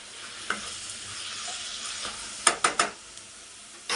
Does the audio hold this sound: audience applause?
no